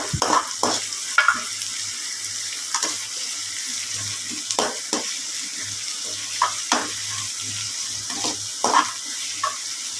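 Steady sizzling as onions fry in a pan for mutton gravy, with repeated stirring scrapes and clinks, close by, no talking.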